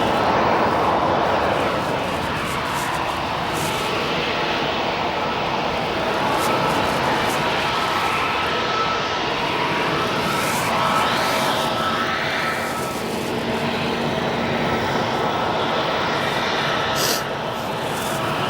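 Aer Lingus jet airliner arriving at O'Hare airport, a steady, broad engine roar that holds loud and unbroken throughout with no clear talk over it.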